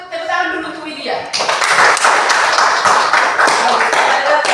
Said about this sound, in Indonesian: Coba tepuk tangan dulu untuk Widya.